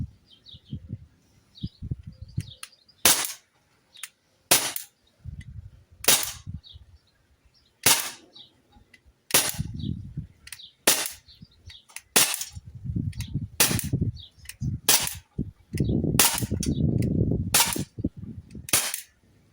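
Walther Q5 Match .177 air pistol firing about a dozen sharp, loud shots at irregular intervals, with handling noise between them and faint birdsong in the background.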